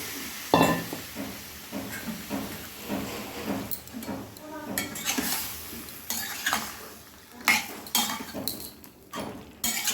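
Fried potatoes and marinated chicken for a mango kasundi chicken dish are stirred in a sizzling pan, with a spatula scraping and clinking repeatedly against the metal over steady frying hiss.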